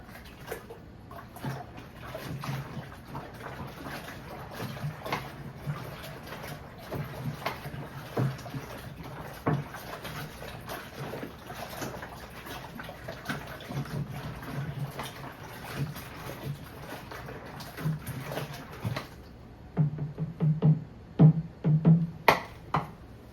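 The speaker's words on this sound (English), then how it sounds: "And we're off to the aeration." Beet mead mixed with orange juice being aerated, a steady churning, splashing liquid wash with scattered bubbly bursts, fairly close and moderate in level, ending in a few louder sloshes.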